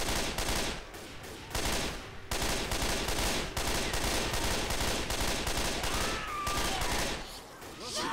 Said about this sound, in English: Not a fan of the burst fire.